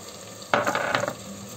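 Peas with red pepper flakes being stirred in a pan, a short burst of scraping and sizzling that starts abruptly and fades after about half a second, close and moderately loud with no talk.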